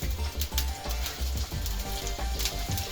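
Small onions (shallots) hit hot oil in a pan, giving a steady close sizzle with brief crackling bursts, partly covered by a strong low, tonal background.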